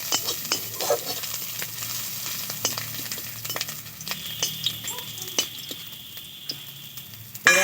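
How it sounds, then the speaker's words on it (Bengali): Black mustard seeds, whole cumin and ginger paste sizzle in hot oil, with a steady frying hiss punctuated by crackles, pops and occasional clinks of a utensil against the pan. "আর দিয়ে দিচ্ছি গোটা জিরে। আর দিয়ে দেবো আদা বাটা। খুব ভালো করে ফোড়ন করে নেব।"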